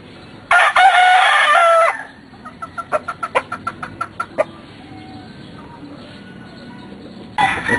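A young Albany gamefowl rooster crows loudly and close by, one long harmonic call, followed by a rapid series of clucks and distant crowing from other birds.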